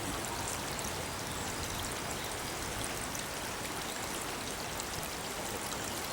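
Continuous rushing of a small stream's water flowing on a nature walk, close and steady with a broad hissing splash and no pauses, no voices.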